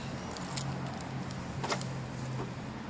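Car keys jangle in short metallic bursts while someone locks a car, a few faint clinks spread over a quiet background hum.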